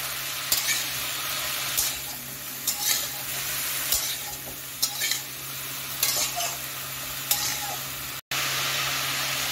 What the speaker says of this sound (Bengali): এখন আমি 2 মিনিট সবজিটা ভেজে নিচ্ছি।